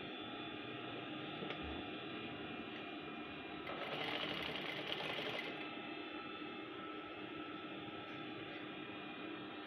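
A sewing machine stitches a men's trouser waistband in a continuous fast whirring run, close and steady, with a brief rise in speed midway.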